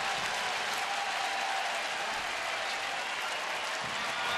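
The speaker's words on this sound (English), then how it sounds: "Their crowd starting to crank it up." Baseball stadium crowd in Cleveland cheering and applauding, a dense, steady roar of clapping and voices filling the whole stretch without letup.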